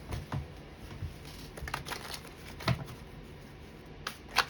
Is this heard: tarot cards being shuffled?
yes